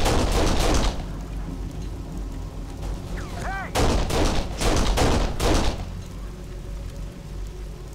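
Gunfire from the video game Kane & Lynch: Dead Men, with a quick flurry of shots at the start and then several loud bursts a few seconds later, set against a steady bed of game noise.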